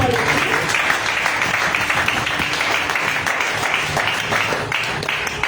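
A church congregation applauds during a Sunday service, a dense, steady wash of clapping from many hands that fills the whole stretch at an even level, with a few voices mixed in.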